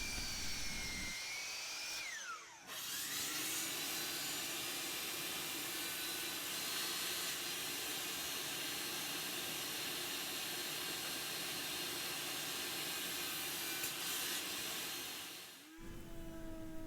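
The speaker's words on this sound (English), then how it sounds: "I'm cutting a 5-degree taper on both faces of the mallet head." A saw cuts a 5-degree taper into the face of a wooden mallet head made from firewood, a steady, continuous rasping drone lasting over ten seconds with brief pauses at the start and end, close and alone without talk.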